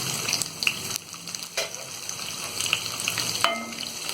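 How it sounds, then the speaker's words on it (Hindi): Chopped onions frying in a pan for samosa filling, giving a steady close sizzle and hiss with a few sharp stirring scrapes and clatters, and no one speaking. "अब इसके बाद हम ये कटी हुई प्याज डाल देंगे"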